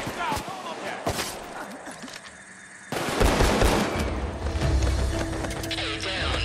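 Steakout 12g shotgun fired in the Payday 2 video game, rapid repeated blasts in bursts with game effects and someone talking over the gunfire, growing louder and denser after a short lull.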